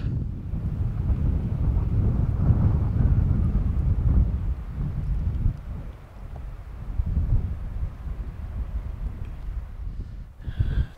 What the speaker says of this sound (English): Just putting myself out of the wind for a second here, because there's a lot of wind here.